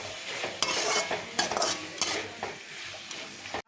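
Carrots and chopped tomatoes stirred in a sizzling pan, a spoon scraping and clinking against the metal in several irregular strokes over a steady frying hiss, close up with no talking.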